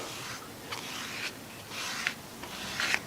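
A plastic applicator spreads a thin layer of Bondo filler across the ash wood body of a Telecaster Thinline electric guitar, making quiet rubbing scrapes in several short strokes, close and alone.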